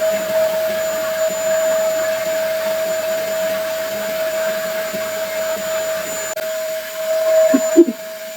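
A vacuum cleaner draws air out of a vacuum pack bag of folded clothes, a steady high whine holding constant, then shifting pitch as the bag tightens, ending with a few rustles and a click.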